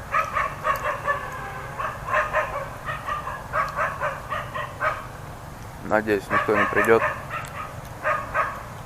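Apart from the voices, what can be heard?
dogs barking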